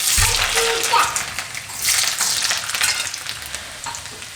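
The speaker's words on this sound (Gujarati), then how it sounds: "તેલ આપણું ગરમ થઈ ગયું છે તેમાં આપણે નાખશું રાઈ અને લસણ" Mustard seeds and garlic dropped into hot oil for Gujarati muthiya, a loud close crackling sizzle that bursts up at the start and keeps spitting and hissing steadily, with faint stirring underneath.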